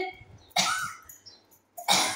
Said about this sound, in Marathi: खोकला येते वर.